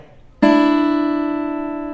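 Open second and first guitar strings are plucked at the same moment and ring together as one clear chord, slowly decaying with no other sound.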